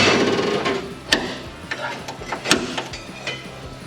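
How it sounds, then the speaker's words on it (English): A spring-loaded punch strikes metal in a few sharp metallic snaps over a dull mechanical background, sparse single clicks spaced a second or so apart, close up. "Spring loaded punch."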